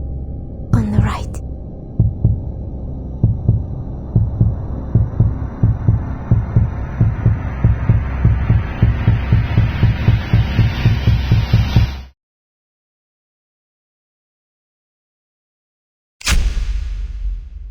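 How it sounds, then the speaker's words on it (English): A heartbeat effect from the video game Reverse: 1999, steady low double thumps repeating over a droning hum for about twelve seconds before cutting to silence, then a burst of noise. "Don't forget my heartbeat"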